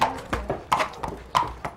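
Horses walking with hooves clip-clopping in an irregular, fairly close rhythm, about eight sharp hoof strikes, with no clear speech.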